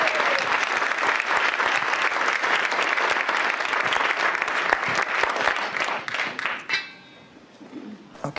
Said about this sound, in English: Let us welcome our speakers with an applause.